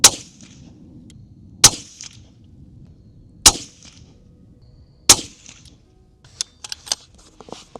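Four sharp, evenly spaced rifle shots from a Sig Cross Trax .308 firing Nosler ammunition, each loud with a short echoing tail, followed by faint clicks and clinks, no speech.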